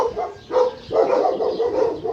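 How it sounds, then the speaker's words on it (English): Dogs barking loudly and close, several rapid barks in quick succession with short gaps between them. "These are scary dogs, and I see them."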